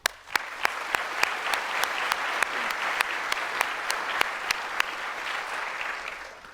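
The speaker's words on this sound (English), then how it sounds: "we applaud your extra effort, involvement, and accomplishments." A crowd applauds steadily at a nursing graduation convocation, a dense wash of clapping with a few louder individual claps standing out, fading slightly at the end.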